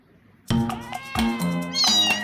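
A cat meows several times up close, drawn-out tonal cries rising and falling in a short sequence, the last one higher and more plaintive.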